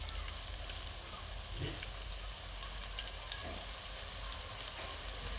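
Tomato and onion sauté with spices in a pan, giving a steady, moderately loud sizzle with a few soft stirring scrapes.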